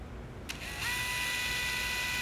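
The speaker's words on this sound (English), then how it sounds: "So I went ahead and pre-drilled." A small drill pre-drills screw holes for a lamp's lens ring. After a brief click, a steady high whine starts and holds to the end.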